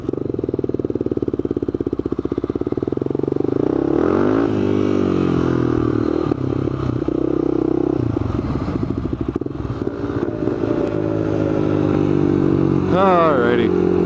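Carbureted motorcycle being ridden, its engine rumbling loud and close throughout, with pitch rising and falling as it accelerates and shifts, and a rider's voice heard over the engine noise.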